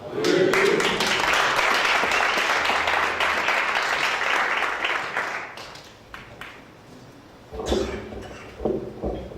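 Loud applause from a crowd at a student council inauguration ceremony fills the first several seconds, then fades into scattered claps and quieter room noise.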